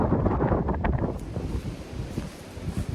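Cold wind gusts across an exposed mountain top, a steady rushing roar buffeting the microphone with uneven swells and no voices.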